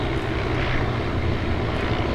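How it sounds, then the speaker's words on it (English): Several antique propeller bomber airplanes fly overhead in a V formation at an aerodrome air show, a loud, steady engine drone that fills the whole stretch without pause. "Here come the bombers forming into a Vic formation"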